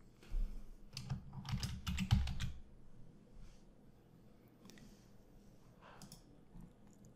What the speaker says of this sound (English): I'm going to type hint into the button.